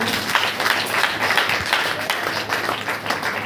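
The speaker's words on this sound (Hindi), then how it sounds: "ताली बजा करके बोलो" A congregation at a Hindi-language Christian prayer meeting claps hands together in a dense, continuous patter of applause, fairly loud, with voices mixed in.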